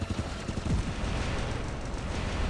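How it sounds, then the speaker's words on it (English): Gunfire in the War Robots video game, dense rapid shots and thumps forming a continuous rumbling barrage, moderately loud with no voices. "So a guy's shooting at me from behind"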